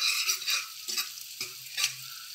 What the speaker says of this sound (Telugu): ఈ ఎర్రగడ్డలు కలర్ వచ్చేంత వరకు బాగా కలుపుకుంటూ ఉండాలి